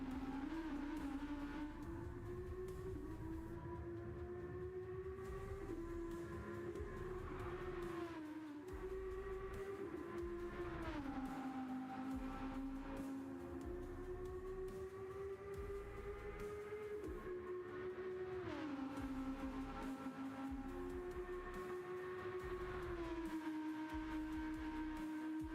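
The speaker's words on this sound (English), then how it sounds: "God, that car sounds so good." A car engine revs and holds a steady, throaty drone for over twenty seconds, its pitch climbing and dropping with each gear change, loud and fairly close.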